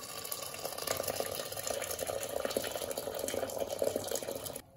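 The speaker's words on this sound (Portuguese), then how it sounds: "Já vou colocar água aqui pra poder cozinhar." Heated water pours steadily into a cooking pot of beans for feijoada, a continuous splashing rush lasting several seconds before stopping abruptly.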